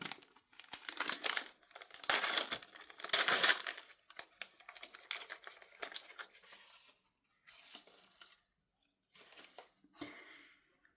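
Panini FIFA Club World Cup 2025 fat card packs being torn open, with loud close crinkling and tearing of foil wrappers in several bursts, then quieter rustles and pauses.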